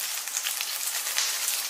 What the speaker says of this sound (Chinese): 再把肥肉给它放下来煸香